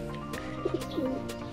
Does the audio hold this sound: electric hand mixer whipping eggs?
no